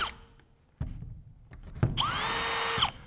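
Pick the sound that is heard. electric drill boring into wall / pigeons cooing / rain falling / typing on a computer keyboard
electric drill boring into wall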